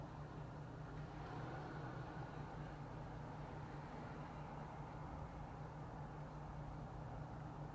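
A Hummer idles in place, giving a faint, steady low engine hum that drones on evenly without revving.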